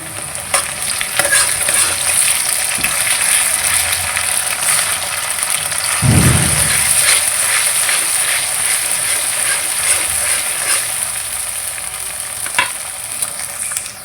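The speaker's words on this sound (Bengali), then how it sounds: "তো আমি আদা রসুনের পেস্টটা দিয়ে দিলাম" Onions fry loudly in a pan as ginger garlic paste goes in and is stirred, a continuous close sizzle with scraping strokes and a heavier burst of spatter around the middle, no talking.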